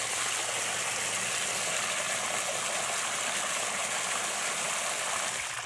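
Steady running water rinsing soil from the roots of a water canna being divided, a continuous close rushing stream with no talk.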